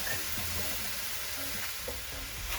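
Vegetables cook in a pan for hibachi-style chicken and shrimp, giving a continuous, fairly quiet sizzle with faint occasional stirring.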